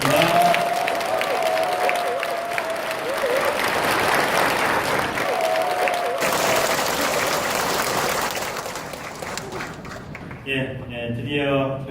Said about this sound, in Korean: 우리 황태정 신부님 큰 박수 부탁드립니다